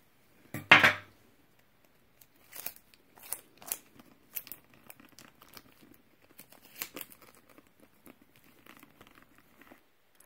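Tape being pulled, torn and pressed onto a Louis Vuitton Alma leather bag: one loud close rip of tape followed by quieter scattered crinkles, taps and short tearing sounds.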